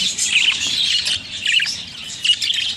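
Pet budgies in a cage chirp and squawk continuously, bright rapid chatter close by with several overlapping birds and no voices.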